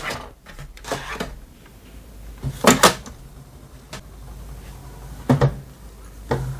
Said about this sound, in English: Then close the ink access door.